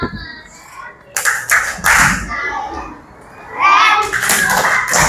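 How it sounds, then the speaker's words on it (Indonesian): Schoolchildren in a second-grade classroom perform a patterned group clap for group four: a few sharp bursts of clapping, then young voices chanting and calling out over more claps. "kita tepuk keren dulu untuk kelompok 4"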